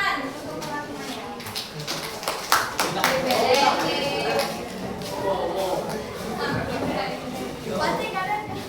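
Schoolchildren in a classroom clap for their classmates, loose scattered claps with sharp individual hits over several seconds, while voices talk over them.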